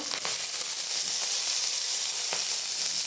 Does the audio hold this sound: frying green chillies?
yes